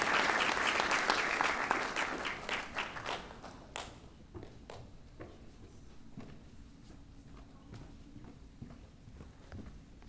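Audience applause for a student award recipient at a high school scholar awards ceremony, loud dense clapping that thins into scattered individual claps and fades to a quiet room.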